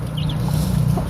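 Brooding hens on a backyard farm where many mother hens sit on eggs and new chicks have hatched, clucking low and steady as a continuous murmur close by.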